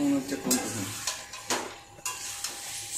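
Mutton curry with potatoes is stirred in a pot, a spoon scraping and clinking against the metal in several short strokes over a faint sizzle, with a voice speaking over it.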